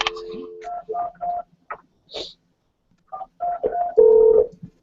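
Telephone keypad tones during a community center membership meeting as a call is placed, a series of short separate beeps in uneven groups with a longer final tone and brief pauses between them.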